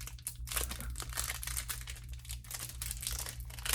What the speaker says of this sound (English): There's a nice tear.